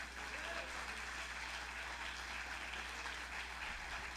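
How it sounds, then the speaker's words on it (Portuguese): Steady applause from a church congregation at a Sunday service, even and continuous, heard faintly at a distance with a low hum beneath it. "aplauda o Senhor nesta noite"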